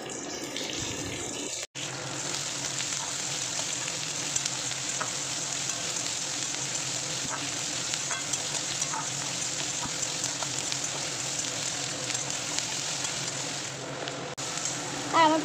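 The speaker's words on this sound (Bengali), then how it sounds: "সেই পেঁয়াজ কুচিগুলোও দিয়ে দিচ্ছি, সেটাও এখন মানে পেঁয়াজ কুচিটা দিয়েও ভাজা ভাজা করে নেব।" Chopped onion and garlic fry in oil in a pan. A close, even sizzle carries on for the whole stretch with scattered small clinks and scrapes, broken only by a brief dip early on.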